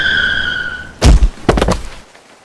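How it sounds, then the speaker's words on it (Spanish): A car skids on wet asphalt at night, a short burst of tire squeal and a heavy thump after a steady whine, loud and close, then abrupt silence. "el asfalto mojado me traicionó y el coche derrapó peligrosamente"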